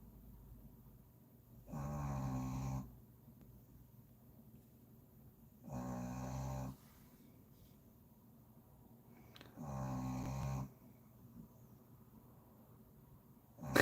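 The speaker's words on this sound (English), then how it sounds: "Yeah, he certainly can snore." A man's snoring sounds from nearby in a quiet room, three long rasping snores spaced about four seconds apart, each a deep rumbling inhale, with faint hush between them.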